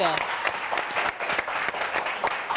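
A studio audience at a live midday TV show applauds, with crisp, dense clapping that carries on steadily at close range. A voice is briefly heard at the very start.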